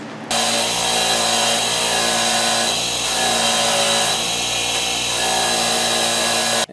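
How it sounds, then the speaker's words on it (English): A wire wheel grinds steadily on front brake parts from a 1990 K2500 truck, a loud continuous whine with rich harmonics lasting several seconds, cutting off abruptly at the end with no talking. "So I'm going to clean these up on the wire wheel."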